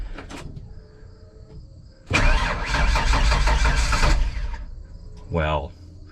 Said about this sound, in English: she will fire right up.